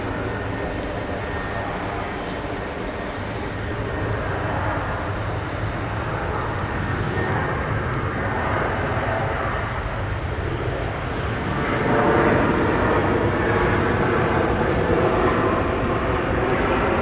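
A Qantas airliner rolls for takeoff at Brisbane International Airport, a steady, loud engine roar that builds slightly toward the end.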